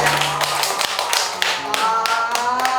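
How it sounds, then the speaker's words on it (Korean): Clapping from a small group at a Korean parenting education class, sharp close handclaps in an uneven, lively patter with music playing under it. "박수 한번 주세요"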